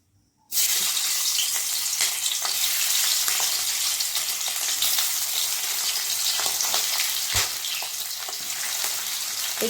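Shell-on prawns dropped into hot oil for prawn malai curry, a sudden loud sizzle that bursts in and holds as a dense, crackling fry with occasional pops, close up and without talk.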